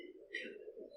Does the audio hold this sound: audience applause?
no